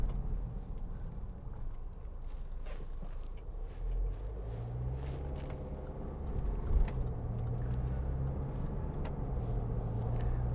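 Cabin of a 2016 Land Rover Discovery Sport 2.0 automatic on the move: a steady low road and engine rumble with occasional faint creaks and ticks, no speech.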